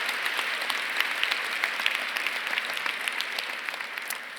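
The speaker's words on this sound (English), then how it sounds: "So let's give them another round of applause" Audience applause for West Philadelphia High School leadership at an awards breakfast, a dense burst of clapping from a room of people that fades slightly toward the end.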